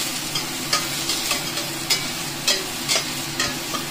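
Onion and garlic sautéing in a little oil for Filipino macaroni soup, a steady close sizzle punctuated by regular scraping stirs of a spatula against the pot, no voices.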